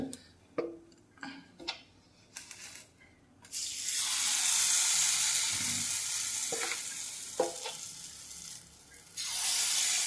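Sweet paniyaram batter fries in a pan, bursting into a loud, dense sizzle after a few soft ticks and clatters, holding steady and close with brief dips before swelling again.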